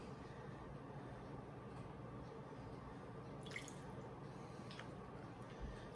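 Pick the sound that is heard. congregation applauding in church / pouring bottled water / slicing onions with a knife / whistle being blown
pouring bottled water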